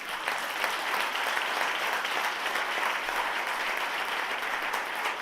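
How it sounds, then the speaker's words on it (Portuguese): A church congregation applauds continuously and loudly during a worship service, a dense wash of clapping that holds steady from start to finish with no talking. "Você pode aplaudir Jesus?"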